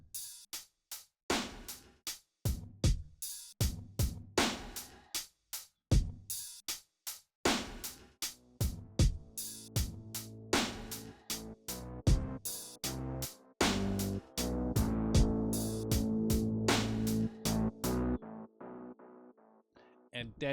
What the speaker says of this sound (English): And then together they sound like this.